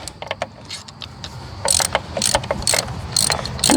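A wrench working bolts on an AquaSport boat, a run of quick metallic ratcheting clicks that grow louder and denser in the second half, close up with no talk.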